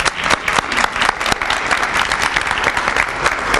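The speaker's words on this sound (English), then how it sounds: "Let me do another round of applause." An audience gives a lively round of applause at a Prince George's County summer launch event, dense clapping continuous and fairly close for several seconds with no voices over it.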